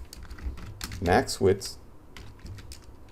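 Keyboard typing while CSS media query code is entered for a responsive image grid in HTML: light, irregular key clicks run throughout, close and fairly quiet, with someone speaking briefly over them in the middle.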